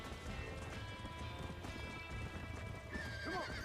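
Hooves clip-clop rhythmically in the video game Red Dead Redemption as a feisty horse moves about, closing with a loud, wavering neigh, all heard alone without talk.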